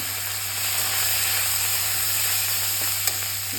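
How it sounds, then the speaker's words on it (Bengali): Prawns and fish roe frying side by side in a pan with a few black cumin seeds, giving a steady, close sizzle and hiss that holds evenly throughout, with one brief tick near the end. "এপাশে মাছের ডিমটা ভাজা করে নেব, আর এপাশে এই যে চিংড়ি মাছটা।"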